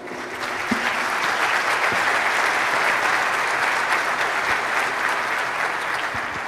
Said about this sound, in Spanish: es para que se oiga más, lo más lejos posible este aplauso